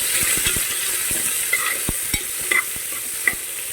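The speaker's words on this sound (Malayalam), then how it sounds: "ഇനി 2 സവാള സ്ലൈസ് ചെയ്ത് വെച്ചിരിക്കുന്നത് ചേർക്കാവേ. ഒന്ന് ചെറുതായിട്ട് വഴറ്റിയെടുക്കും." Two sliced onions sautéing in a pan for Kerala-style kadala curry, a close sizzle with repeated sharp scrapes and taps of a spoon stirring against the pan.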